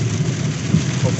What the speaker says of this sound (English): It's been raining hard since I think about 6 months, and we get this torrential downpour.